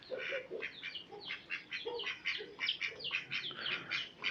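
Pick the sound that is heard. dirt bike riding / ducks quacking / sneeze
ducks quacking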